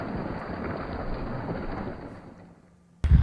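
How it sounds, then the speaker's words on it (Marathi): Heavy monsoon rain pours down steadily during flooding in Raigad district, a dense close hiss that thins out near the end before a sudden loud thump cuts in. "रायगड जिल्ह्यात मागील 2 दिवसापासून मुसळधार पाऊस सुरू आहे"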